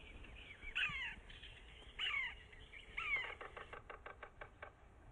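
A tape recording of a yellow-bellied woodpecker plays outdoors in the Chattahoochee National Forest: three harsh, mewing calls spaced about a second apart, then a quick, irregular series of knocking drum taps, faint against quiet woods.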